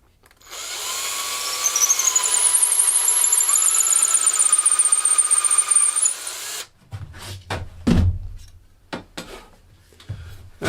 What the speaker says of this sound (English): I'm going to take my drill, go through the center,